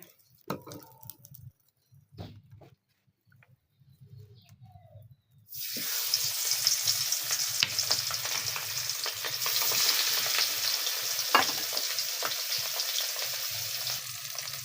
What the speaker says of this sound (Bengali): মাছ ভাজার এই শব্দটা আমার কাছে অনেক ভালো লাগে